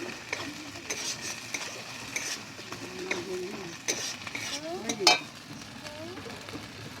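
Poppy seed paste being stirred in a frying pan for doi katla, with a steady sizzle, scraping spoon strokes and occasional metal clinks against the pan, one sharper clatter near the end.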